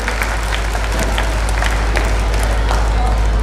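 An audience at a school annual function applauding to welcome a parent performer, a dense sustained burst of clapping from a crowd, loud over a constant low hum.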